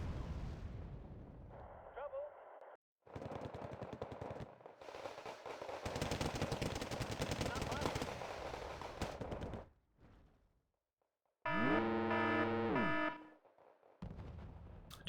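Gunfire and explosions from the real-time strategy game Wargame: Red Dragon, with dense rattling volleys and heavy booms, gaps of near silence, then a sharp tonal whine and another burst.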